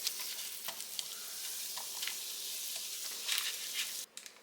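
Butter sizzles on the heated plate of a small Dash mini egg bite maker, a soft continuous hiss with faint scraping and light taps, fairly quiet and close, then a sudden drop near the end.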